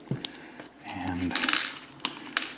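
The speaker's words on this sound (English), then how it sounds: "I'll also get all the other screws out too, just so I have them at my fingertips." Small metal screws from an Eaglemoss Nissan GT-R model kit clink and rattle as they are handled, with light taps and a brief scrape of plastic, close and fairly quiet.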